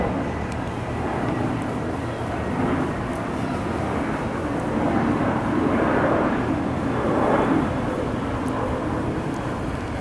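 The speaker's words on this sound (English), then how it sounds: "Here comes a plane." A fixed-wing airplane passes overhead outdoors, a broad steady engine rumble that swells slightly in the middle and stays loud and continuous for about ten seconds with no talk.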